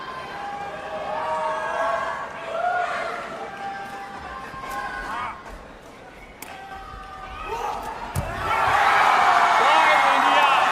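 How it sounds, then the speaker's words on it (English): A crowd at an ISTAF sepak takraw match in a sports arena, rumbling under a commentator's voice and then swelling into loud cheering and whooping near the end. "Listen to the crowd."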